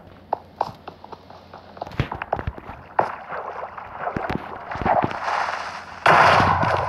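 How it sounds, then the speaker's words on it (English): Blocky thuds and cracks from a Minecraft game, ending in a loud, sustained explosion blast that destroys iron ore underground, with no voices. "It blew up the iron ore for me."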